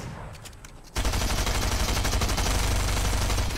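Sustained rapid gunfire in a video game, a loud continuous burst of automatic shots that starts abruptly after a second of quieter game sound and keeps going to the end.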